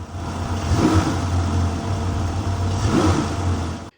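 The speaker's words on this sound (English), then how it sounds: "I had the cap off and rev the engine gently to push the air bubbles up and out of the cooling system." An Aston Martin DB9 engine idles with the cap off the cooling system and is revved gently twice, each rise swelling briefly before settling back to a steady, close, loud idle hum.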